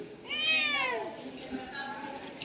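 A cat meows clearly and fairly close, one drawn-out rising-falling call followed by a softer, shorter meow, against quiet room background.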